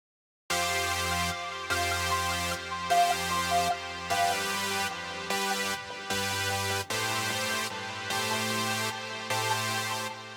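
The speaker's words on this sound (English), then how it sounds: "So take a listen to this featuring the Jupe 8000 and the SEM." Arturia Jup-8000 and SEM software synthesizers play a steady, chord-driven electronic music passage with layered guitars, sustained tones shifting in regular blocks, loud and continuous with no talking.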